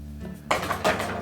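A Frigidaire dishwasher door pulled open to put the rack back, two close rattling clunks of metal and plastic with a brief clatter like dishes and cutlery shifting.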